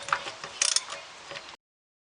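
Ratchet wrench fitted with a 27mm socket working loose bolts: a short burst of rapid metallic clicking, close and fairly quiet, with no one talking.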